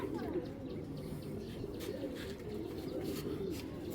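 Racing pigeons coo in a steady, low, overlapping murmur, close by, with faint chirps scattered through.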